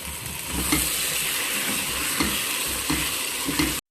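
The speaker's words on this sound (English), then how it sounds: "And now I'm adding the tomatoes that I have peeled and chopped." Peeled, chopped tomatoes fry in a pan for a chicken and chickpea curry, giving a steady broadband sizzle with light stirring knocks, close and continuous with no talking.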